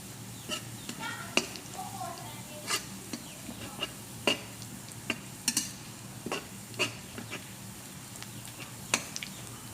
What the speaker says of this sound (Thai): เอาเป็นกระเทียมเจียวก็แล้วกันนะ